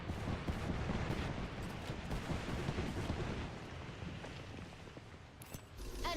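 Gunfire in the Apex Legends video game, with dense rapid shots and a continuous rumble of distant battle throughout, loud and busy, ending with a sharper burst near the close.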